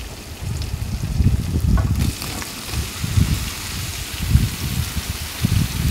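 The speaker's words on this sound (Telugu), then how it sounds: "ఇప్పుడు మనం ముందుగా తరిగి పెట్టుకున్న వంకాయ ముక్కలు అన్నది యాడ్ చేసుకుందాము." Chopped brinjal pieces drop into ginger and garlic frying in a pan, and a low, uneven sizzle follows with soft crackling bursts that rise and fall, close and steady with no talk.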